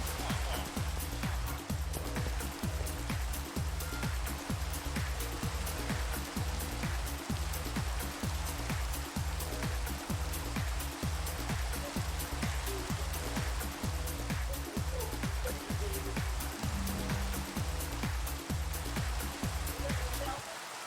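Steady rain in a video game patters continuously against a surface, with a faint rhythmic thumping underneath throughout, fairly quiet and even.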